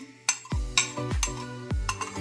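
Navara rice is stirred while roasting in an iron pan, a spoon scraping and clinking against the metal in several quick, close strokes with short gaps between them.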